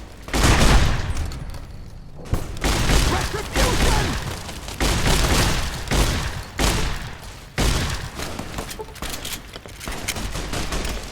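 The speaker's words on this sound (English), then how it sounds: "Lobbing your grenades again." Gunfire and grenade explosions fill a very hard battle for Hoover Dam in the video game Fallout: New Vegas. Dense bursts of shots and booming blasts roll on continuously and loudly.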